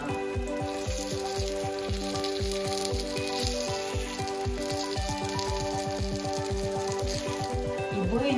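Unniappam frying in an appe pan after being flipped, a soft crackling sizzle under a loud, rhythmic musical backing that dominates throughout.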